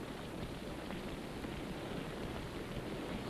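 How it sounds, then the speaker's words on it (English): Simulated rain falling steadily in a test facility for space vehicle parts, a dense, even hiss with soft pattering that holds constant throughout without any break. "Many conditions are simulated, from light to heavy rain"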